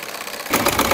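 A sewing machine stitches folded cord piping fabric for a neckline, its motor starting up halfway through into a steady close whirring rattle.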